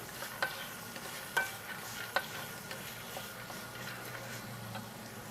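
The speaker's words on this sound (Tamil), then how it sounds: "இப்போ கொண்டக்கடலையை சேர்த்துட்டு மறுபடியும் நல்லா மசாலா கூட நல்லா மிக்ஸ் பண்ணி விட்டுறலாம்." Quiet scraping and stirring of chickpeas into masala in a metal pan, with a few sharp ticks of a spoon against the metal over a faint, steady sizzle.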